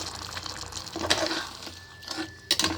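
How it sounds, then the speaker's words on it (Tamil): Water pouring into a pot of mutton for Tamil-style mutton thokku, a steady liquid splash and gush that swells midway and again near the end, close and moderately loud. "இப்போ இதுலேயே நாம் மட்டன் வேகிற அளவு தண்ணி ஊற்றிக்கலாம்"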